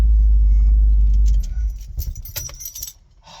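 A 1973 Cadillac sits with a deep low engine rumble at first, then moves off with shifting road and motor noise. Jangling, rattling clicks ride on top before the sound thins out.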